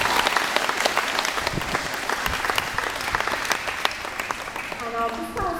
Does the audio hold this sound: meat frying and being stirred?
no